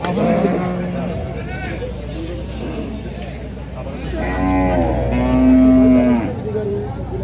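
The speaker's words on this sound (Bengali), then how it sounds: "সব ধরনের গরু আছে, গরু, মহিষ এবং ছাগলও আছে।" Cattle lowing at a busy Eid cattle market in Ashulia, where cows, buffalo and goats are sold, with a couple of long loud moos rising over a constant crowd murmur and nearby voices.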